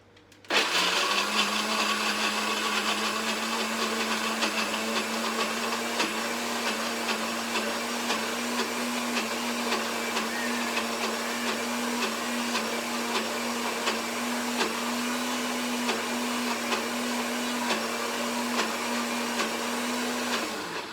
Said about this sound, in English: I'm gonna push down on my blender here.